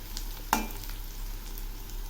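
Onions and whole green chillies frying in hot oil, a steady soft sizzle with one sharp clack of a spatula against the pan near the start.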